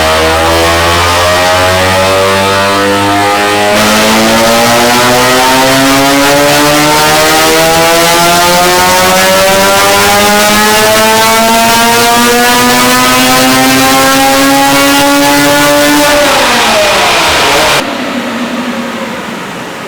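A Mazda RX-7 track car's naturally aspirated rotary engine with individual throttle bodies screams on a dyno, its loud sustained harmonic note climbing steadily toward 9000 RPM, then dropping off abruptly near the end.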